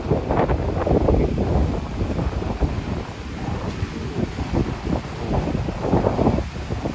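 Strong wind roars and buffets the microphone at Merak harbor on the Sunda Strait at night, with the low rumble of high sea waves mixed into a continuous, loud, blustery wash.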